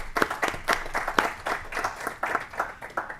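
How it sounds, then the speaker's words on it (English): A committee audience claps in a hearing room, a fairly faint round of applause with a loose rhythm of individual claps that lasts throughout. "Let's give them a round of applause for the work they're going to be doing."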